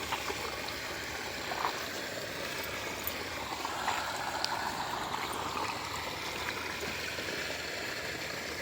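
Faint, steady trickling and gurgling of irrigation water flowing along a channel into a farm field, continuous and quiet with no voices.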